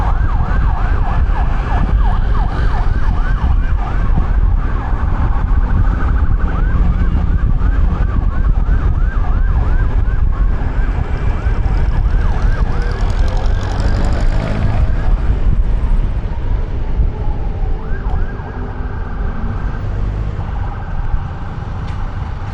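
An ambulance siren wails loudly and steadily through city night traffic noise on Roxas Boulevard, cycling rapidly, then shifts tone as it passes by.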